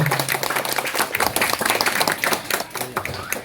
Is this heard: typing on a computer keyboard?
no